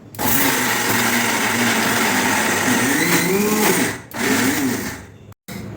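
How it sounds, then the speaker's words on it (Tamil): A mixer grinder loaded with dried red chillies and garlic cloves whirs loud and close in a high, continuous grinding roar, pausing briefly before a short final burst. "காஞ்ச மிளகாய், ஒரு 4-5 பல்லு பூண்டு. கொஞ்சம் குறைன்னு அரைக்கணும்."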